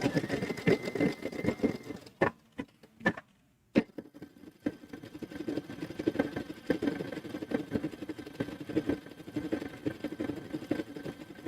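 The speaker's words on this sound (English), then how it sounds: "I'm going to go ahead and stitch from beginning to end to cover up that raw edge of fabric there" A sewing machine stitches along a raw fabric edge on a first zipper bag, running in a fast, steady mechanical chatter, with a brief pause and a few isolated clicks before it runs on continuously.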